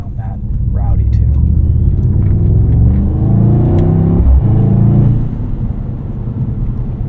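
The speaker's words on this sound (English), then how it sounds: "They just repaved this section of road, so it's super rough and loud" Loud, rough road roar and low engine rumble inside a 2024 Mercedes-AMG GT 63 S E Performance 4-Door driving over a freshly repaved, coarse section of road, a steady drone that eases slightly toward the end.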